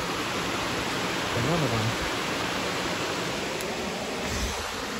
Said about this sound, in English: I got another view of the waterfall